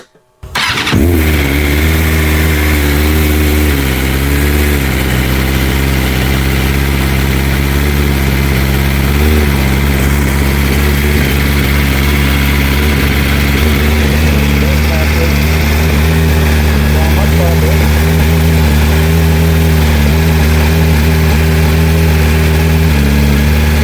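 A BMW M1000RR superbike fitted with an Arrow Pista GP World Superbike muffler fires up after a brief silence, then settles into a loud, steady, close idle with a rich low rumble that holds for over twenty seconds.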